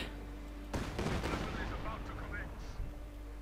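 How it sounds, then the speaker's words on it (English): Rapid rocket-artillery fire from a Katyusha barrage in the strategy game Company of Heroes 2, a dense run of overlapping bursts and booms over roughly two and a half seconds with a steady low rumble underneath. "Katyusha barrage, nice sort of short distance, increasing its accuracy by decreasing its scatter."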